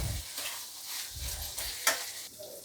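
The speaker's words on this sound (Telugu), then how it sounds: "కొంచెం కారం, కొంచెం గరం మసాలా వేసి ఒకసారి కలుపుకున్నాము" Chopped ivy gourd pieces sizzle in a pan with chilli powder and garam masala, with a spoon stirring and scraping through them in steady strokes and one sharp clink near the end, close and moderately loud, with no voices.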